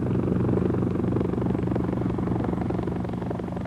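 A military helicopter of the kind Norwegian Jaeger special forces use for low-level insertion flies close by, its loud, steady rotor and engine rumble throbbing without a break, with no voices.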